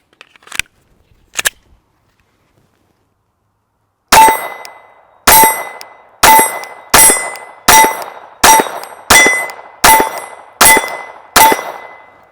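A G44 rifle firing CCI Standard Velocity 40 grain bullets, two faint clicks followed by ten loud, sharp metallic shots in a steady, fairly quick succession, each with a brief ringing tail.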